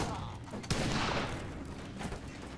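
A sharp gunshot cracks out in the Western shooter Fistful of Frags, one loud report followed by a lingering echo, with players talking over the game noise.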